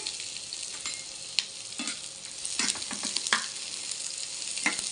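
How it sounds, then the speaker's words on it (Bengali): Onion and garlic sizzle in hot oil for kalonji bharta, a steady close crackling hiss broken by scattered sharp pops and occasional stirring scrapes, with no voices present. "এখন কালিজিরা ভর্তার জন্য পেঁয়াজ আর রসুনটা ভেজে নেব।"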